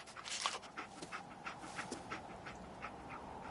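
Dogmeat, the dog companion in Fallout 4, pants in quick, rhythmic breaths, fairly faint and close, with no talking over it.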